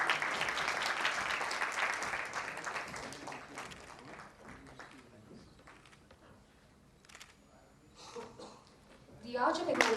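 At an achievers' conference, an audience gives a round of applause for Venu Gopal. Loud clapping opens the clip, fades into scattered claps and murmurs, and then swells again near the end.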